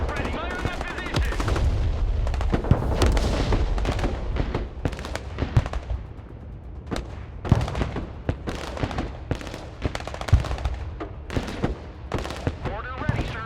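Artillery and gunfire called in during a military strategy video game: dense, continuous booming blasts and crackling shots, loud and close, overlapping throughout with sharp bursts roughly every second and a voice talking underneath.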